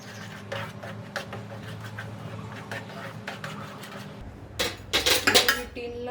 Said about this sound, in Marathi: पण आता सतत ढवळत राहायचं आपल्याला